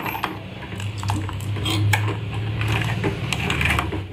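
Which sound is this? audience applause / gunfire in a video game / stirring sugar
stirring sugar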